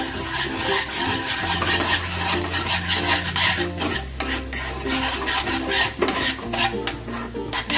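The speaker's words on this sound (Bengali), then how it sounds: "রসুনটাকে একটুখানি বাটারের মধ্যে ফ্রাই করে নেব।" Chopped garlic frying in butter over low heat, a steady soft sizzle with scraping stirs in the pan, continuous and close, partly buried under loud background music.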